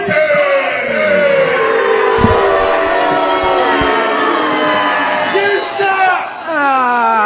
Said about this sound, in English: Dirty Andy Dalton hearing it from the crowd